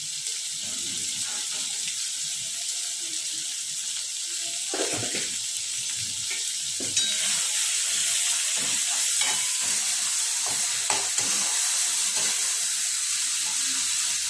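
Green pigeon pea dal with rock salt sizzles steadily in a pan while being stirred, a continuous close frying hiss with soft scraping strokes throughout.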